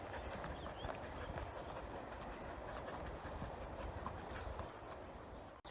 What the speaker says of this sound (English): we're getting closer to the river, to the Popo Agie River. You can hear it in the background